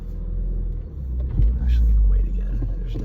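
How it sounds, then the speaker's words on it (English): A car passing on a road makes a low rumbling swell that builds and fades, close and fairly loud against a steady engine drone. "There's another car coming."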